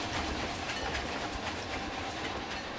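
A train runs on a ride in the video game Planet Coaster 2, giving a steady rolling rumble with light rhythmic clatter, moderately loud and continuous for a few seconds with no talk.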